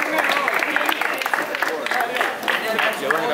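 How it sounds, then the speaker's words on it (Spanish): Crowd applause and cheering at a live rap battle event, steady dense clapping mixed with voices and shouts throughout, fairly loud and close. "Un fuerte aplauso para la batalla"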